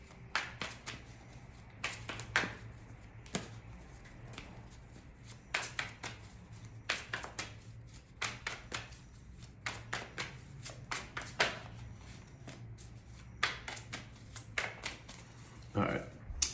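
Tarot cards are shuffled by hand in repeated bursts of crisp riffling and slapping, irregularly spaced with quiet gaps, close and fairly soft.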